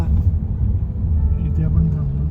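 A family car is driven along a road, giving a steady, close, low engine and road rumble from inside the cabin, with faint voices in the background.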